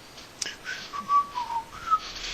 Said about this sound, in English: the neighbor enters whistling with his